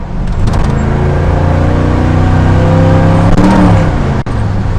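A 1966 Chevrolet Chevelle SS with the 305 cubic-inch V8 revs up loudly after a downshift to first gear, the engine note rising and holding as a close, continuous roar.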